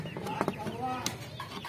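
Chickens cluck inside a covered coop, a few short close clucks and a drawn-out warbling call, soft and intermittent against a quiet background.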